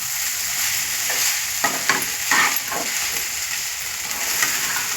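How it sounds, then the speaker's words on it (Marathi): Kanda poha with peanuts is stirred in a hot pan: a steady sizzle of frying runs throughout, with clinking and scraping stirring strokes near and clear. "शेंगदाणे पण टाकून घेऊयात आपण आता. याला हलवून घेऊया."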